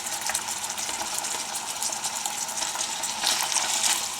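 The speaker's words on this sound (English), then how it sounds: "now I'm going to add my prawns" Prawns hit a frying pan already holding salmon and sizzle in a steady, loud, hissing crackle that stays close and continuous, swelling slightly toward the end.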